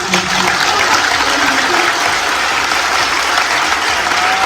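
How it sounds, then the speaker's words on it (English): An audience at a school service awards ceremony gives loud, sustained applause that stays dense and even throughout, with little else heard over the clapping. "Huge round of applause, please."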